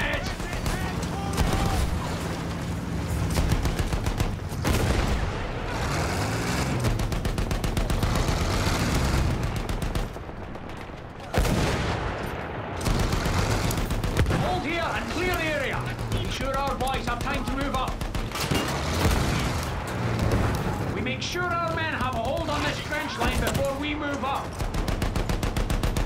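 Sustained gunfire and machine-gun bursts in Battlefield 1 multiplayer trench fighting, loud and continuous across the whole stretch with explosions mixed in and voices shouting over the din.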